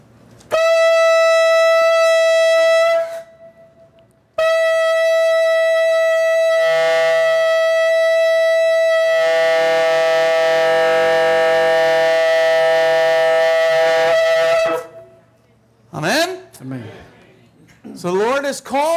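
Teruah blast, a shofar-like horn signal calling to repentance: a long, loud, bright sustained tone with a short break, then wavering, and a voice speaks briefly at the end.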